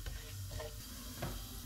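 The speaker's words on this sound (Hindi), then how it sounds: "इसमें साबुत मसाला डालेंगे और इसको 30 सेकेंड तक फ्राई करेंगे" Whole spices crackle and sizzle in hot oil for Sindhi biryani, a steady close frying hiss with a few brief pops and stirring scrapes, no voices.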